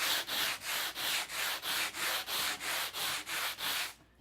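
A sanding block scrapes back and forth in a steady rhythm, about a dozen even rasping strokes close up, with no voices.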